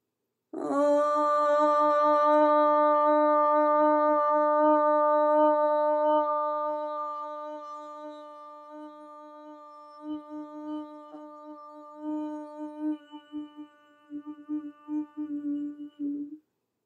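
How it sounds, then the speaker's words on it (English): A single voice chants a long, steady Om in a yoga class, a sustained harmonic-rich hum that holds clearly for several seconds, then softens and flutters into a fading, wavering murmur before stopping. "we'll seal that intention with the sound of Om"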